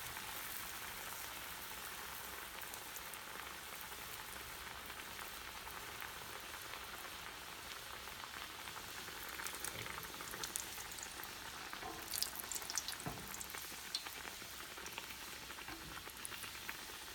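A quesadilla sizzles in hot oil in a pan, a faint, even crackling hiss that continues without a break, with a few slightly louder pops toward the end.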